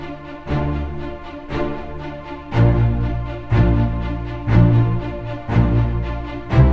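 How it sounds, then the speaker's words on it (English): Short, clipped string notes play in a driving, repeating rhythm, with stronger accented stabs every second or so; loud, with no voices. "short articulations on strings for this, so it sounds like this"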